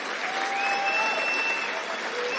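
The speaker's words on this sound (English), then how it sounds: "we can clap for that." Crowd applause at a rally where President Trump gives remarks on the economy in Monroe County, loud continuous clapping with faint cheering and whistles running through it.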